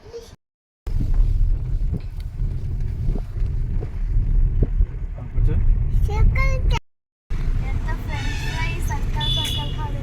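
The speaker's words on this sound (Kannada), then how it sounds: "ಒಂದು ಸ್ಮಾಲ್ ಲಾಂಗ್ ಡ್ರೈವ್ ಹೋಗ್ತಾ ಇದ್ದೀವಿ ಈಗ." A car on a short night drive fills the cabin with a steady low road rumble, broken by two brief dropouts, while voices and faint tones come and go above it.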